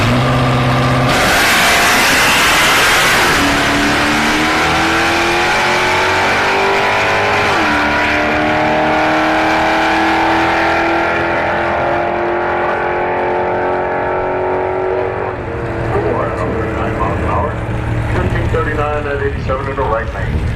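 Two stock Chevrolet Tahoes roar off the line at a drag strip, engines climbing through loud sustained revs with rising gear-change tones, close and continuous, with a voice talking over the noise.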